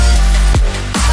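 Distorted synth tone, dense and crunchy with heavy saturation, holding steady for about a second with a couple of brief pitch-dropping swoops, loud and alone.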